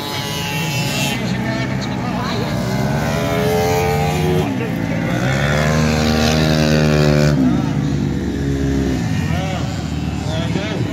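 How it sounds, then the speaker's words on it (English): A small scooter engine runs steadily close by, its pitch rising and falling through revs in a continuous drone for the whole stretch, with no talk over it. "It's a lovely little engine."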